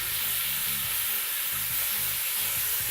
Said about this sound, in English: we're going to start some ground beef in the pan. Make sure it's nice and hot.